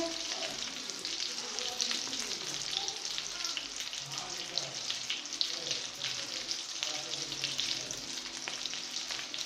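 Aloo tikki, spiced potato patties, sizzle steadily in hot oil in a pan, a dense continuous frying crackle with small spatters throughout, close and fairly loud.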